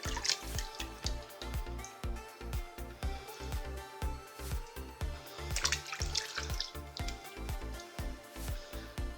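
Hands lather a bar of peanut oil soap under running water, with irregular wet squelching and rubbing strokes, close and distinct, over a continuous tap flow.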